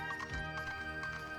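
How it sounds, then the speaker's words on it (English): Hooves of a horse in a fairy-tale kingdom clip-clop in a brief, steady patter against a low hum, with no voices. "Miramis is the finest horse in the whole kingdom."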